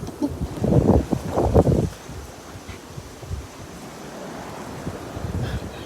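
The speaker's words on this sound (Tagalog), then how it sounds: "Ipapakita ko muna sa inyo ang dagat sa pinakatuktok." Gusty wind and sea waves at the shore rush against the microphone in two loud bursts early on, then ease into a softer, steady surf and breeze.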